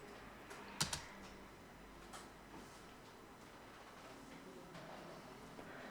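Quiet, close keystrokes on a computer keyboard as a folder name is typed, a few sharp clicks early on followed by sparse light taps, ending with the Enter key press.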